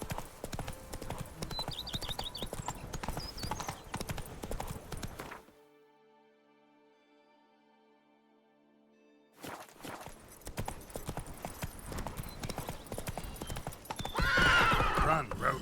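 Roach the horse from The Witcher 3 game canters with rhythmic hoofbeat clip-clops and a whinny, breaking off into a few seconds of near silence before the hooves resume, with a louder rushing burst at the end.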